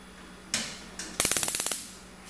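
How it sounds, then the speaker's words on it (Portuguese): A gas stove burner being lit in a home kitchen while making doce de leite coalhado: a couple of isolated clicks, then a loud rapid run of about ten igniter clicks that fades into a soft rush. "Vou ligar aqui o fogo."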